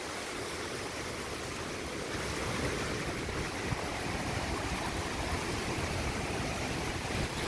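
Large ocean waves surge and wash continuously onto Richardson Beach in Hilo, Hawaii, at night, a dense roaring rush of surf with no distinct breaks, steady and fairly loud throughout.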